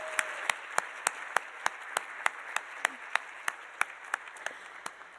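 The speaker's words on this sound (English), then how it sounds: "So if we could get a big, big round of applause for them," Applause at a university scholarship luncheon honoring benefactors, steady rhythmic clapping with sharp, evenly spaced claps standing out over a softer crowd of hands, fairly close and sustained throughout.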